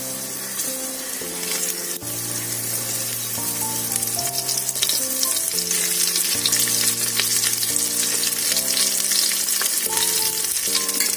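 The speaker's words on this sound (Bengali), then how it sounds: "আলু ফুলকপি ভাজা হয়ে গেছে" Potato and cauliflower chunks fry in a pan with spices, producing a continuous loud sizzle with occasional scraping stirs, and a melodic music bed underneath.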